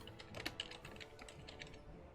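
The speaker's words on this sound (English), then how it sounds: "I'm typing it out real quick." Quick typing on a computer keyboard during an online tabletop game session, a close, faint run of rapid key clicks with no talk over it.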